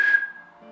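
A thin, breathy whistle tone from an attempt to whistle with fingers in the mouth, one short wavering note that fades and briefly returns, close and alone.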